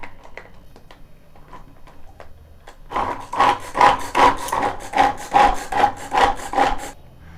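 A hand-operated chopper finely minces cut beetroot pieces under its lid, a rapid run of rhythmic grinding, rubbing strokes starting after a quiet lead-in, close and fairly loud with no talking.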